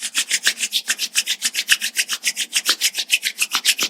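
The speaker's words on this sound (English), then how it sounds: "let's generate some energy between our hands by rubbing our palms against each other." Palms rubbed briskly together during a yoga meditation class, a fast, even, dry swishing repeated many times in a steady rhythm, close and loud with no talk.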